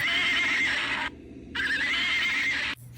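A baby sensory toy, the Hahaland Surprise Band, plays a recorded horse neigh. Two loud, close whinnies come one after the other with a short gap between them, and there is no talk.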